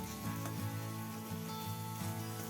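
Spice paste with ginger and garlic frying in a pan for a rohu fish yogurt curry, a soft continuous sizzle with faint scraping from stirring, steady and close, with no talking.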